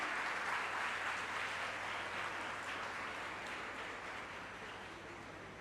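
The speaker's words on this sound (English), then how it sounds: "maybe we could applaud for all of us" A graduation ceremony audience applauding together in a hall, a broad, steady roar of many hands clapping that slowly eases off over several seconds, with a faint low hum beneath and no talking.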